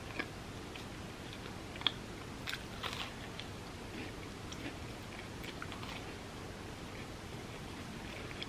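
A vegan chocolate empanada is bitten and chewed in a quiet room, giving a few faint, sparse crunches and soft mouth clicks spread over several seconds.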